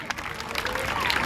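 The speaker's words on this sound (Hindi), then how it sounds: "इसके लिए जोरदार तालियां बजाएं" An audience claps at a school annual function, a dense, sustained wash of applause from a crowd that swells slightly toward the end, with voices mixed into the noise.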